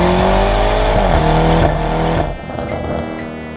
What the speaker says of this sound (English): New Lamborghini Urus rocking a full Armytrix exhaust from the downpipe back.